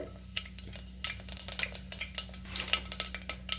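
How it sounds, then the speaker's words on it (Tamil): Mustard seeds splutter in hot oil, tempering for a Kongu-style rice and dal dish: sharp, irregular pops and crackles close up, bursting more often after the first second over a low steady hum. "கடுகு லேசாக பொரிய ஆரம்பிக்கிட்டோம்"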